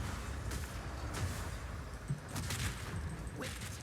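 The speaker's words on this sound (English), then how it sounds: "Get that burst shot on her." Burst shot attacks in Path of Exile 2 fire in several quick sharp volleys against a constant rumbling combat background, moderately loud with no talking.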